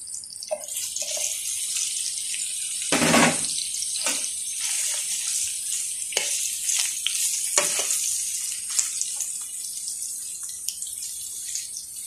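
Liver and onions fry in a pan, giving a steady, close hiss of sizzling oil with scattered sharper spatters and a brief louder burst of crackling partway through. No voices.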